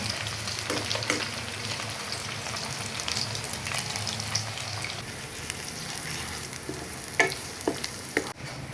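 Steady crackling sizzle of a fritter frying in hot oil, turned once, continuous and close, with a few clinks of utensils near the end.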